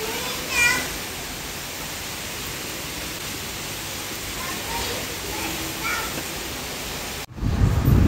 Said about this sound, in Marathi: सकाळपासूनच बघा पाऊस चालू आहे.